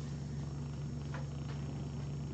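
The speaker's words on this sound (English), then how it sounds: "He purrs like crazy." A cat purrs steadily and continuously in a close, low, rumbling drone with no talk over it.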